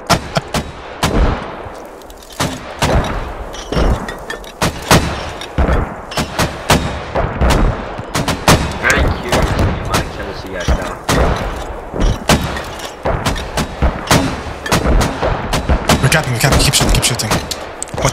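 Rapid thuds and blasts of a mortar barrage in the video game Squad pound continuously, heavy impacts stacking into dense gunfire-like bursts at close range, with voices calling out beneath the barrage.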